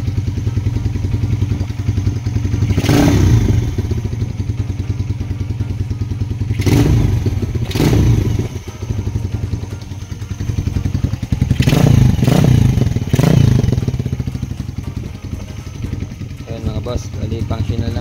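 A Suzuki GD110 motorcycle with a newly installed quick throttle idles loudly and close by, with three or four sharp revs rising above the steady engine rumble.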